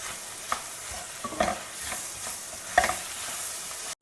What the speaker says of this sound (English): we'll add in the ripe tomatoes. And again cook it all together once more till the tomatoes also become soft